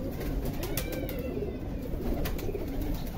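Teddy Golden high-flyer pigeons coo among a dense, continuous wash of flock sound, close and fairly loud, with no speech.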